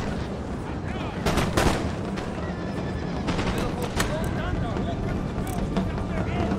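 Soldiers firing musket volleys in the video game Empire: Total War, with several sharp cracks and crackling bursts of gunfire over a constant battlefield din.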